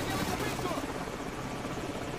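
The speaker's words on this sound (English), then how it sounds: "You didn't say there'd be helicopters, Kamarov." Helicopters in the video game Call of Duty 4, a loud, continuous rotor roar filling the whole clip, with game dialogue running under it.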